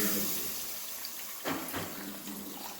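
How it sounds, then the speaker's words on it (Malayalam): Meat stock is poured into the masala for a Kerala-style beef curry, a soft, brief watery pour and splash that swells midway, quiet and close. "അടുത്ത് നമുക്ക് ഇറച്ചിയുടെ വെള്ളം ഒഴിച്ചു കൊടുക്കാം."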